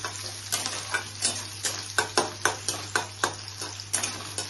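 Garlic fries in a pan under a quiet sizzle while a utensil scrapes and taps in a regular rhythm, about two strokes a second, close and clear over a low steady hum.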